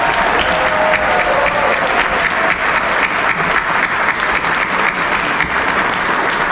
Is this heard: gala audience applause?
yes